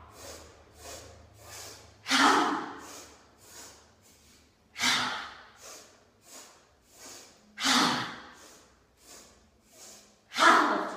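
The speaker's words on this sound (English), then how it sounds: "3 sniffs and a big ha." Breathing exercise of three short sniffs followed by a big open-mouthed ha exhale, repeated in a steady cycle, the quick faint inhales building to a louder, breathy release each time.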